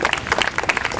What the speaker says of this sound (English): give him a round of applause and say thank you to our council president